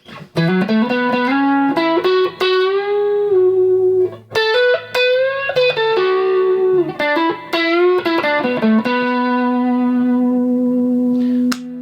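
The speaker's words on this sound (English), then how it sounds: "we'll go to the neck with dirt, single coil mode." Distorted electric guitar, early-2000s MIK guitar on the neck pickup in single-coil mode, plays a sustained melodic phrase with bent, singing notes, loud and continuous with a light echo tail, no voices.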